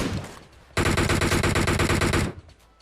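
Sustained rapid automatic gunfire from Battlegrounds Mobile India erupts abruptly as one loud, close, evenly rhythmic burst lasting about a second and a half, then cuts off.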